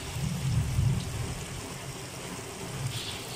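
Heavy rain pouring down outdoors, a dense continuous hiss with a low rumbling undertone, loud and steady with no voices.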